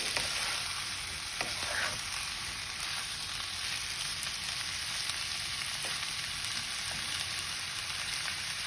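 Potatoes fry for Bengali aloo chorchori, a steady hiss of sizzling oil running throughout at a moderate level, with a few faint stirring scrapes and no talking.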